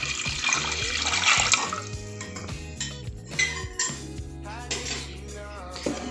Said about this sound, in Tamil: அப்புறம் நம்ம தண்ணி ஊற்றிக்கலாம்.